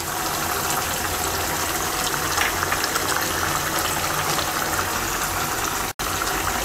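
Cauliflower with five slit green chillies simmers in a pan for an egg and cauliflower dish, giving a continuous, even bubbling hiss close by with no voices.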